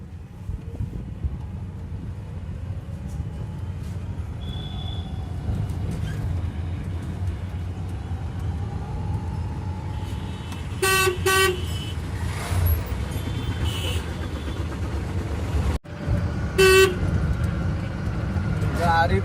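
Traffic noise from an e-rickshaw ride heading out from a Bihar railway station, with a steady road rumble and two short car horn toots near the end, under people talking.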